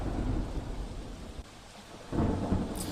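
Heavy monsoon rain with thunder over Amreli's Rajula–Jafrabad area, a dense low rumble and steady downpour that dips briefly mid-way then swells again.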